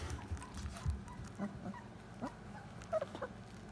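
Vizsla puppies let out a few faint, scattered little yips and whimpers, soft and spaced apart over a quiet background.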